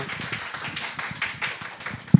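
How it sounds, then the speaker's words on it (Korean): Small audience clapping for award winners at a children's book prize ceremony and book talk, sparse, uneven claps at modest volume, ending with one sharper tap. "오늘의 주인공 세 분께 다시 한번 축하의 박수 부탁드립니다"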